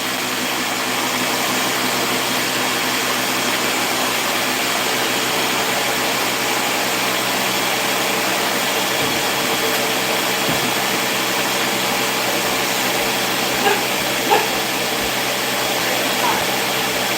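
An electric kitchen mixer whirs in a continuous steady drone, blending butter and oil into spreadable butter, loud and close throughout with a few faint clatters near the end.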